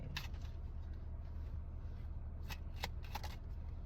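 Cards of a Panther Oracle deck are shuffled close by in a quiet room, a soft riffling texture broken by a few crisp snapping flicks toward the end.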